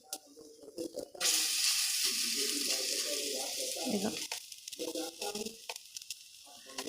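Raw banana peel fritters shallow-fry in a little oil on a low flame. A strong steady sizzle starts suddenly after a quieter opening and fades into patchier crackling, with a voice talking over parts of it.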